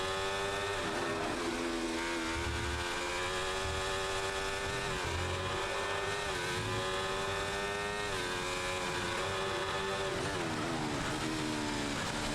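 A race car on a wet track in a racing video game whines steadily at high revs, with the engine pitch rising and dipping through gear changes and slides, loud and continuous with no talk.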